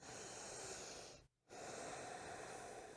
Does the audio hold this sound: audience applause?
no